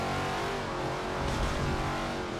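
A Shelby Cobra's 7.0-litre V8 roars loud and steady in Forza Motorsport 7 at the Nürburgring Nordschleife, with a sustained full-throttle drone and no talk.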